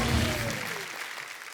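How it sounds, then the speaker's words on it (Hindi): Studio audience applause greeting Spiderman's arrival on The Kapil Sharma Show Season 4, a dense burst of clapping that fades steadily over about a second and a half, with no voices in it. "एक बार जोरदार तालियां स्पाइडरमैन के लिए"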